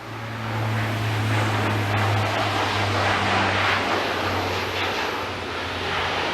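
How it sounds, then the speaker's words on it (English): Air Force C-130 Hurricane Hunter propeller planes passing overhead, a loud, sustained droning engine roar with a steady low hum that swells and slowly fades. "it looks like the Air Force is going to keep us busy today with airplanes. Yep. Go C-130s."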